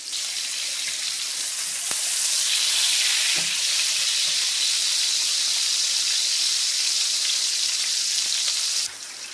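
Beef burger patties fry in bacon fat on a stovetop, a loud, dense, continuous sizzle and crackle that swells slightly midway and drops abruptly near the end.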